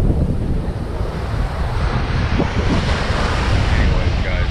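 Big ocean waves roll and crash continuously at Maho Beach in St. Maarten, a dense surf roar mixed with heavy wind buffeting the microphone.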